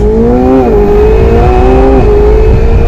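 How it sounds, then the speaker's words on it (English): A McLaren 720S engine roars loudly and continuously as it accelerates, the turbos audible and the pitch climbing and dipping with gear changes, heard close up. "You can really hear the turbos."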